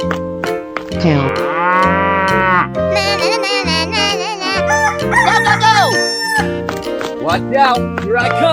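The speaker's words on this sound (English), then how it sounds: "Cow." A loud, drawn-out cartoon cow moo from a 3D animal slide game opens the clip, followed by rooster-like crowing and other farm calls over busy, looping game music.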